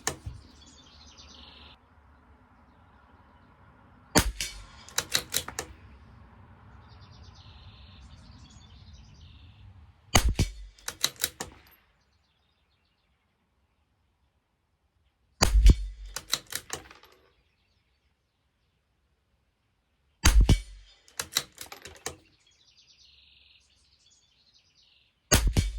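A CZ457 rimfire rifle fires Lapua Center X ammunition at 50 yards: five sharp, loud shots spaced several seconds apart, each a crisp crack with a short ringing tail, between stretches of quiet background.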